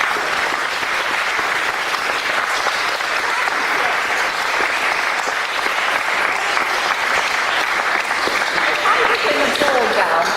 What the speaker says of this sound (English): So can we have a round of applause?